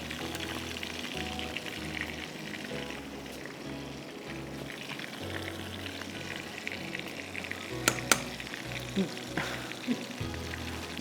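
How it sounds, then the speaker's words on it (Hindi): Fish frying in hot oil gives a steady, close sizzle with crackling pops throughout, punctuated by a few sharper clatters of kitchen utensils. "तो हम बस इसको फ्राई करके फ़िश को हम सर्व कर रहे हैं।"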